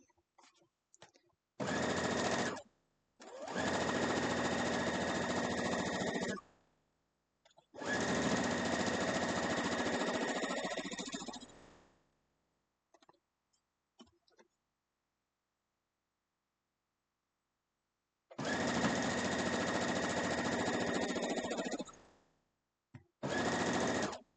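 A sewing machine stitches a quilt block seam in several loud, steady motor bursts of a few seconds each, separated by silent pauses.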